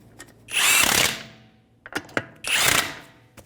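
Two loud bursts from a power impact tool, each about a second long, as lug nuts are run on while a wheel goes back onto a 2015-2019 Hyundai Sonata, with light clicks and clatter between them.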